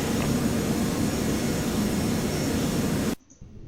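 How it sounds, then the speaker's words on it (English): Jet airliner engines roar at takeoff power in FSX Flight Simulator on a Seattle to Portland flight, a loud steady broadband rush that cuts off abruptly near the end, leaving a faint hum. "So there's our takeoff"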